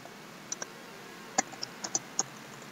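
Typing on a computer keyboard at a command prompt, a handful of sparse, crisp key clicks spaced irregularly over quiet background, close and fairly faint.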